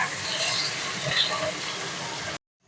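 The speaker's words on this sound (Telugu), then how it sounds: "మీడియం ఫ్లేమ్ పెట్టుకొని దొండకాయ ముక్కలు వేయించుకోవాలి" Ivy gourd (dondakaya) pieces fry in a pan over a medium flame, giving a steady, close hiss and crackle that runs continuously, then cuts off abruptly near the end.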